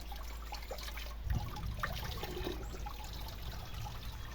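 Steady running water from a water pump pours and splashes into a fish pond, a continuous gurgling trickle with a low mechanical hum underneath.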